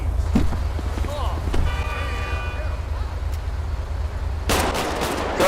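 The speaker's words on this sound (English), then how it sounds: "Shots fired! Shots fired!" Gunfire in a Grand Theft Auto video game, scattered shots and a dense burst near the end, mixed with street noise and voices talking over the action.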